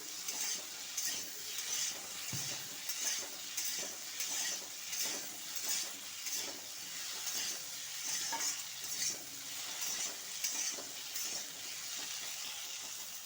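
Potatoes fry in a pan with salt and turmeric, a steady close sizzle running throughout, broken by repeated scrapes and clinks of a utensil stirring against the pan.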